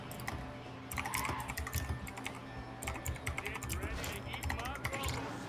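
Bursts of clicky typing on a computer keyboard, close and fairly loud in irregular clusters, with someone talking alongside.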